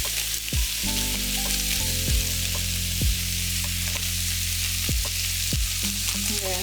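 Beef browning in a pan for homemade curry, a steady close sizzle of frying meat with several dull knocks and clinks of stirring at irregular intervals, with no talking.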